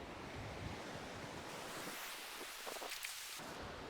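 Surf on a hot beach, a constant washing roar of waves with wind buffeting the microphone, and no talking.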